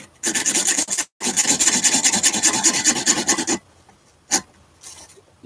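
Rapid back-and-forth rasping strokes of a hand saw cutting a thick piece of wood during a guitar repair, close and steady, pausing briefly before a final single stroke.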